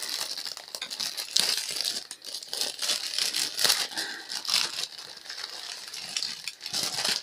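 Wrapping paper crinkles and rustles loudly and close up as a large parcel is unpacked, with continuous crumpling and a few sharper tearing bursts and no talking.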